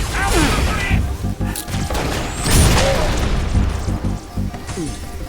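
Heavy weapon fire and crashing impacts from enemies in the Halo Reach shooter game, loud repeated bursts and booms over several seconds, with radio-style voices talking over the combat.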